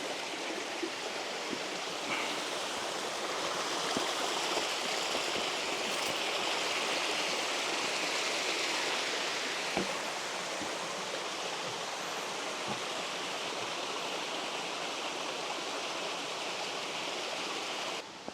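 Steady broadband rush of mountain spring water running and dripping inside a cave, a continuous even wash of flowing water with a few faint drips, no voices.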